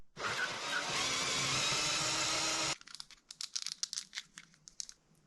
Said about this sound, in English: Now we're going to use a 30mm drill to actually drill on the centre point there.